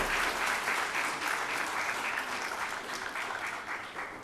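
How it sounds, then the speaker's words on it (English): An audience at the concluding session of an India EMBO lecture course claps for a prize winner: a dense, sustained round of applause from a fairly large crowd that slowly thins toward the end, with no talking over it. "So please let's have a round of applause for him."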